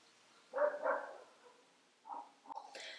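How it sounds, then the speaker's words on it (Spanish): Dogs bark a few times, faint and somewhat distant: a pair of barks early on, then a couple of shorter, softer ones near the end, with no talking. "cada que grabo los perros ladran, jamás ladran últimamente y ahora que estoy grabando ladran"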